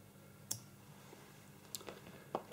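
Small scissors snip off surplus thread while an Executioner salmon fly is being tied, giving a few faint, sharp clicks spread out in a quiet room.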